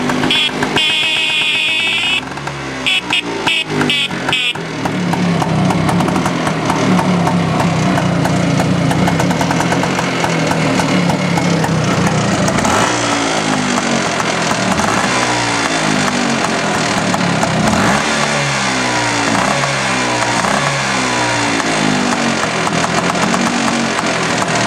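A 1974 Vespa Rally scooter engine idling close by, a steady buzzing putter with a brief revving burst early on before settling into a continuous, loud idle that runs to the end.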